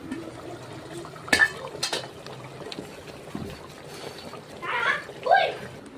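A metal pot lid clanks and scrapes as it is lifted off a pot of vatha kuzhambu, a Tamil tamarind curry, with faint bubbling and a person talking nearby.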